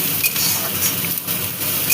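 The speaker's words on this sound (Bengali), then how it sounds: "এবার রসুন পেঁয়াজ একসাথে ভাজবো" Onion and garlic frying in a pan for a Bengali red amaranth greens dish, giving a steady soft sizzle with faint stirring and light utensil clinks, close and continuous without speech.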